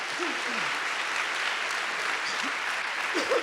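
A church congregation applauds, a steady wash of clapping from a crowd that holds evenly at moderate loudness, with faint voices calling out briefly beneath it.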